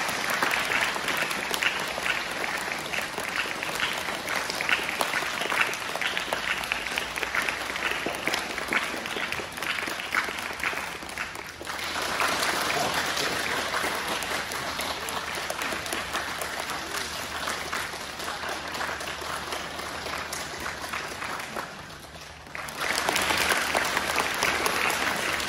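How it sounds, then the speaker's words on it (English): Audience clapping continuously at a live show, steady and full for most of the span, briefly dipping twice before resuming, with no talk over it. "So Warren is going to conduct. You guys have to clap."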